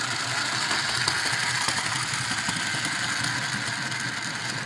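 The wind-up mechanism of a Gorilla Candroid toy flails its arms with a steady, rapid ratcheting whir of small gears, close and continuous, with no speech.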